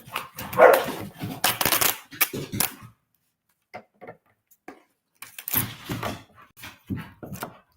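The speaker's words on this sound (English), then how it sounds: "The dogs are fighting right next to me." Dogs scuffle and bark right nearby: a burst of loud, harsh barking and snarling, a lull with a few faint knocks, then another flurry of close barks.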